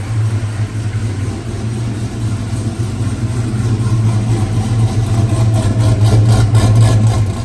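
A supercharged 416ci Denali truck engine idles steadily outdoors, with a loud, close, deep rumble that holds even throughout.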